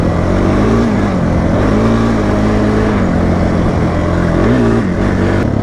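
A Honda CRF250R dirt bike engine blares loud and close while riding trails, a rough, throbbing drone with pitch dips and rises as the throttle changes through a corner.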